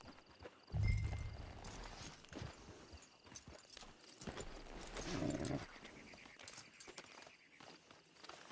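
Horse hooves clip-clop at an unhurried walk in a video game. The quiet, evenly spaced hoofbeats are heard alone, with a brief louder thud near the start.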